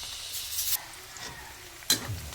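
Garlic and onion sauté in a pan, a soft hiss with brief bursts of louder sizzling as food meets hot oil, close and short.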